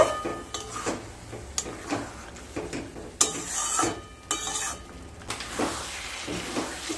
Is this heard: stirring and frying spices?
yes